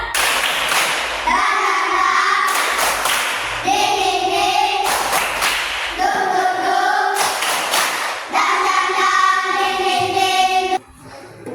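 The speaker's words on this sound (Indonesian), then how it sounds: "Tepuk semangat." A group claps in rhythmic bursts during a classroom spirit-clap ice-breaker, with loud sharp clap sequences alternating with voices chanting along between them.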